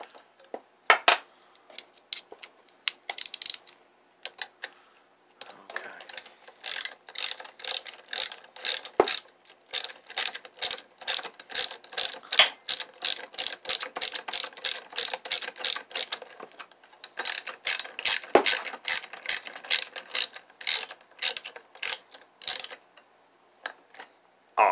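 A ratchet socket wrench clicks rapidly on the flywheel of a Homelite Super XL Automatic chainsaw, a close, crisp run of repeated ticks in long bursts with short pauses between strokes.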